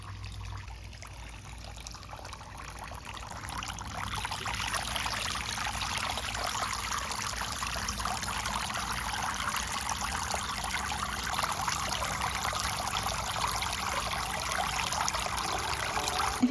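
A garden water fountain trickles steadily in a hot summer yard, a continuous close wash of running, splashing water with no break and no talk.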